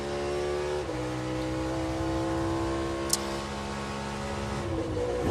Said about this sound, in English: Courtesy pump on the brake pedal. Downshifting. Flipping the throttle. Match the gears.